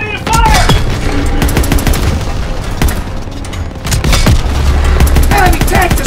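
Battlefield din from a Call of Duty WW2 tank fight, with heavy cannon booms and bursts of gunfire layered through a dense, loud mix, plus shouted voices now and then.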